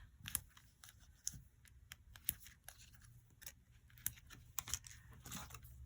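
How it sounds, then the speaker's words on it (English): Scissors snip paper into thin strips for a handmade Mother's Day pull-and-slide card, a quiet run of sharp, irregular crisp cuts close by with short pauses between them. "I'm gonna cut mine into thin strips."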